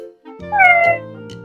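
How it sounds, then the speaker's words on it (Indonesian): A single clear cat meow from a phone app, high and drawn out with a falling pitch, sounds alone and slightly electronic, like playback from a small speaker. "Apabila kita ketuk, maka akan berbunyi suara kucing."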